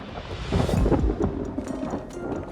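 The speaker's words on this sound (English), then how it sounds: "Another rainstorm." A rainstorm with thunder passes over a woodland building site for an off-grid hemp cabin: a deep rolling rumble swells loudly in the first second and fades over a wash of rain, with no talking.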